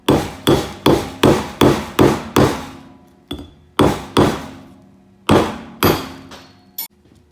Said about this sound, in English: So once again, I'm going to set my nail.